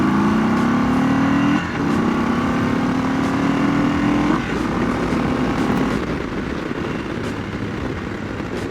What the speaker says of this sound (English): we're going to do second gear pull, 30 mile an hour, 35